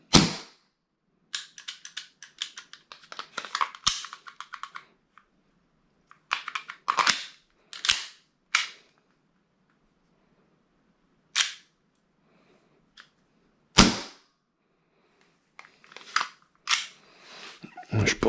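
A gas airsoft pistol running low on gas fires a series of sharp, close snaps, some single and some in quick clusters, separated by silent pauses, with weak, rattly follow-through on several shots and no talking.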